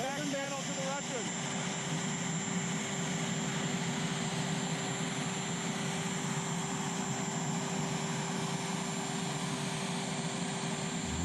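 The president's helicopter gives off a constant loud mechanical drone with a steady whine, and a voice is heard briefly over the start.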